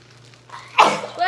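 A single sharp human sneeze, close and loud, after a quiet lead-in, followed by a brief voice.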